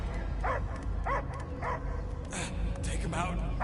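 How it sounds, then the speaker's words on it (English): Dog barking in the video game Guardians of the Galaxy on PS5, several short yips and barks spaced across the moment over a dense game soundtrack drone, with a few brief voice-like cries. "I hear only barking."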